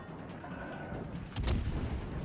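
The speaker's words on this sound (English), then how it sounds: "we continue firing HE at the Scharnhorst" A warship in World of Warships: Legends fires a salvo of HE shells at a Scharnhorst, a sudden broadband boom rising out of a steady rumbling battle ambience late in the moment.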